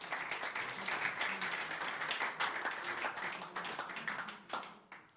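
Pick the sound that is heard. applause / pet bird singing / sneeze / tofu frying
applause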